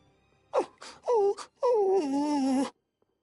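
A dog in Tales of Vesperia lets out a sequence of whimpering, whining cries: a short yelp, then two wavering moans, then one longer, drawn-out whine, sounding clear and close with no voices.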